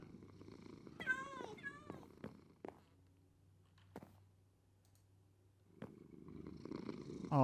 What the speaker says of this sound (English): That purring is so soothing.